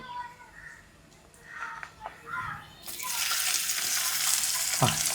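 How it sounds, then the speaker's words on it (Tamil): Quiet talk gives way to a sudden loud, steady sizzle as onions hit a hot pan and keep frying, with a brief clatter near the end. "இப்போ வெங்காயத்தை போட்டுடணும்."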